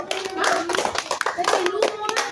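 Children in a classroom clapping their hands in short, uneven bursts up close, mixed with kids' voices and chatter.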